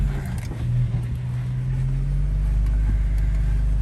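Wrecked Jeep Wrangler rolling under its own power, a steady low engine drone and road rumble with a faint rising tone, close and continuous with no talk.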